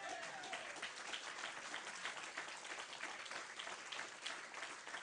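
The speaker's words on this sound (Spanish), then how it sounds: "A su nombre, ¿cuántos le aplauden?" Church congregation applauds during a sermon, a faint, steady spatter of clapping heard from a distance.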